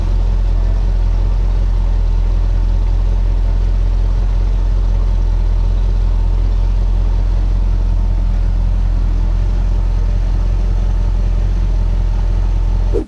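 A car engine idles with a steady, deep hum throughout, while the steering wheel is gently rocked back and forth, with no distinct steering sounds and no talking.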